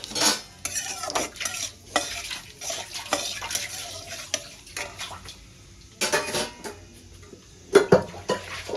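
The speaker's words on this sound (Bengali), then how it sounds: "এবার জিরেটা একটু ভেজে নেব।" Whole cumin seeds frying in hot oil for a Bengali egg and potato chachchari, with repeated stirring and utensil scrapes against the pan over a steady background sizzle, close and moderately loud, no voices.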